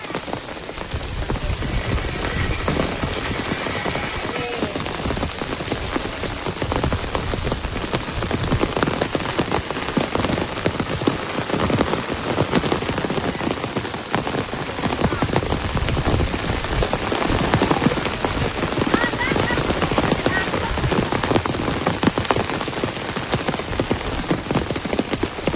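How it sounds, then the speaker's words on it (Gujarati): Steady heavy rain falls over a rural village, a continuous close wash of drops pattering on roofs and ground, unbroken and even in loudness throughout with no one speaking. "આજે ફૂલ વરસાદ આવી ગયો છે."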